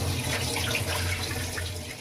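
Sabudana (sago) pearls being washed in water, a continuous soft sloshing and trickling with splashy bursts, close and fairly quiet, no voices.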